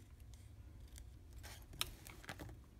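Scissors trimming the white card backing on a handmade Valentine card, a few faint, quick snips close by in a quiet room.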